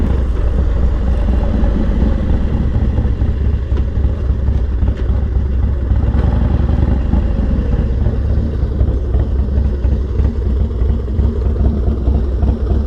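A Harley-Davidson Dyna FXDX motorcycle throbs with a deep, loud, continuous engine rumble as the rider attempts a wheelie, the revs surging unevenly with no voices.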